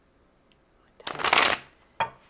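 A deck of tarot cards is riffled and shuffled in one brisk burst, followed by a short tap as the cards settle; quiet and close.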